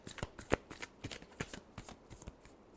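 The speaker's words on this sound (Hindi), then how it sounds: "Last shuffle." Tarot cards are shuffled by hand, close and soft. A quick irregular run of papery flicks and riffles goes on steadily with no voices.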